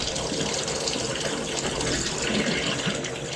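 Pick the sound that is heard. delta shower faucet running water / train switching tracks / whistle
delta shower faucet running water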